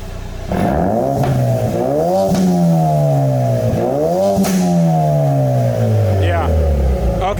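Exhaust of a Ford Focus RS in sport mode with the valves open, revving loud and close as engine pitch climbs and falls repeatedly in sweeping rises, steady and continuous throughout.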